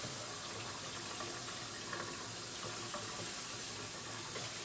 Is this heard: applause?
no